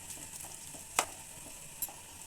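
A spoon stirs bitter gourd sambar in a pot after water is added, making soft scraping strokes over a quiet sizzle, with two brief clinks of metal against the pot and no talk.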